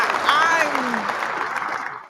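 Brief applause and hand clapping that starts loud and slowly fades, with a voice talking over it.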